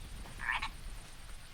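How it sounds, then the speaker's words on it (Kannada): Frogs croak in a short burst at night beside a dense forest road during heavy rain, a brief raspy call standing out faintly over a low steady background hum. "ಕಪ್ಪೆಗಳ ಮತ್ತು ಕೀಟಗಳ ಶಬ್ದ ಬಿಟ್ಟರೆ ಬೇರೇನೂ ಕೇಳಿಸುತ್ತಿಲ್ಲ."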